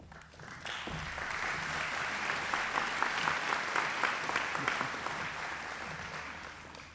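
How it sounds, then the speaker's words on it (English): An audience at a grade 9/10 closing ceremony breaks into sustained applause, a dense wash of many hands clapping that swells, holds steady and then tapers off. "that habit of clapping before someone begins to speak"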